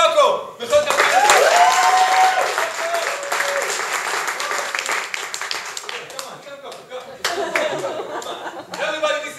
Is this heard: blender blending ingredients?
no